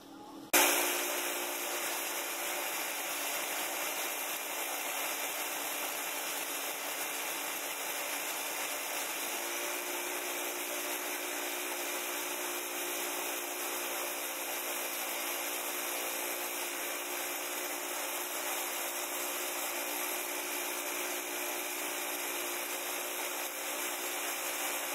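An engine starts for a test with a clean air filter and settles into a steady, unbroken running drone that holds at an even level throughout, with no talking.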